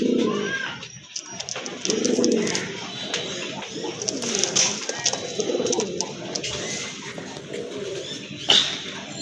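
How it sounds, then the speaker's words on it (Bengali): Large red pigeons of the Gopalganj type coo repeatedly at a pigeon seller's stall, soft throaty calls rising and falling steadily throughout, with occasional chirps and faint background sounds. "আরেক জোড়া কবুতর দেখতে পাচ্ছেন, টকটকে লাল কালার।"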